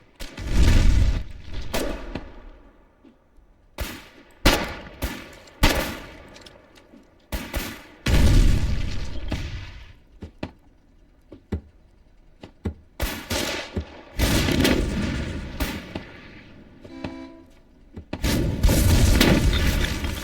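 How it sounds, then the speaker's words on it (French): Gunfire and explosions in the war video game Foxhole: repeated loud booms and bursts of rapid shots come in irregular clusters with short lulls between them. "Mince, il tire déjà dessus."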